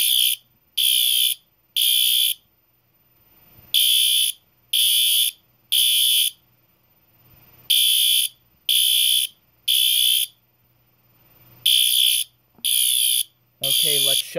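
System Sensor SpectrAlert Advance fire alarm horns blaring out of sync in repeated bursts of three, loud and harsh, with pauses between groups and a faint voice near the end.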